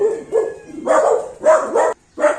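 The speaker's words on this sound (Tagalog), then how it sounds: "Pasensya na kayo, medyo maingay yung aking aso." A dog barks and yips repeatedly at close range, in quick uneven bursts with short pauses between them.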